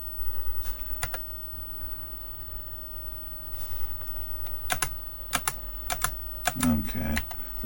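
Sparse key presses on the keyboard of a Tandy Model 4P computer during diagnostics, a handful of sharp separate clicks spread over several seconds against a steady hum, with a heavier thump near the end.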